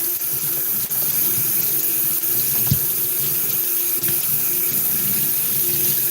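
Hot water runs steadily from a tap into a sink to clean a paint roller, a loud continuous close rush with a few faint knocks and clunks over it.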